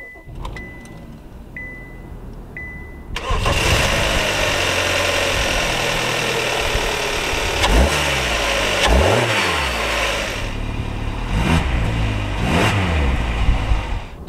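A 2014 Kia Optima LX starting on a cold day: a few chimes, then the engine catches and settles into a loud steady idle, with several rising revs toward the end.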